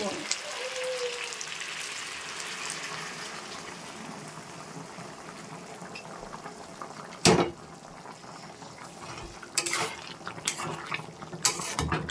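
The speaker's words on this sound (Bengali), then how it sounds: "মাংসটা ভালো করে কষিয়ে নেব তো দেখো এবার কিন্তু আমি জল দিয়ে দেবো" Water poured into a pan of meat being browned for a home lunch, a hissing, sizzling pour with a few sharp clatters of utensils near the end.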